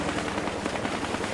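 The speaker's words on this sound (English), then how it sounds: "Now we got an attack chopper coming in." Attack helicopter approaching in the video game Battlefield Hardline, a continuous broad rotor roar with a faint rhythmic chop, fairly close and heard alone.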